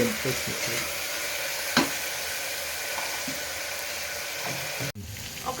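Fresh curry leaves dropped into hot oil give a steady close sizzle with faint stirring clicks, a brief sharp crackle near the start and a short cut near the end, no talking.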